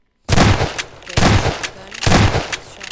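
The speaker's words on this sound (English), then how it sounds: "the primary fire is that machine gun type ammo" Weapon fire in the video game Garry's Mod, three loud, close bursts of rapid machine-gun-style shots, each about a second long, separated by brief gaps.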